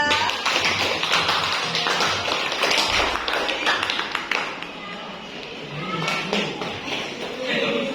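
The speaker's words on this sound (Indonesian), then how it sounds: "Berikan aplaus untuk kelompok yang kedua" Classroom applause for a presenting student group, a dense patter of many hands clapping that rises and falls over several seconds, fairly close, with voices mixed in.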